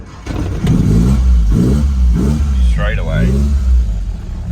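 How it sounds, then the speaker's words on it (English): A Lotus Elan restomod engine catches and settles into a low, loud idle with several short revs rising and falling, while someone talks briefly over it. "I suppose I best tidy up and start the engine"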